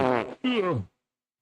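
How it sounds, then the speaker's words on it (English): A loud, voiced burp sounds close up in two quick back-to-back bursts, followed by silence. "Here goes another burp."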